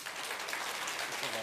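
Audience applause at a Python developer conference's lightning talk session in Korea, a dense continuous patter of many hands at moderate level throughout the brief moment, with a voice faintly present underneath.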